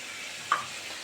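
Whole spices such as garam masala, bay leaf and cumin go into hot oil left over from frying koftas, giving a short, soft steady sizzle with one brief sharper spike.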